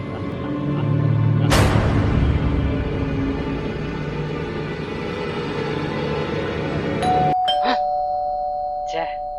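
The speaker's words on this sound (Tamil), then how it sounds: "Calling Bella." A doorbell chimes at a friend's house, its clear tones ringing out near the end after several seconds of room noise and a sharp rustle, with voices around it.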